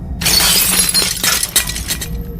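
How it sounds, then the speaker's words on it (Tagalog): A glass bottle smashes in a loud, close crash with scattering shards and clinks trailing off, used as a horror story sound effect for a drunk man breaking his bottle. "Binasag nito ang hawak na bote"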